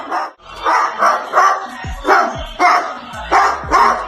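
A parrot imitates a dog, giving a series of rhythmic bark-like calls near and loud. A few low thumps sound between the calls, and faint voices sit in the background.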